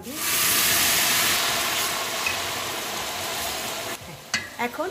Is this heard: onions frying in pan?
yes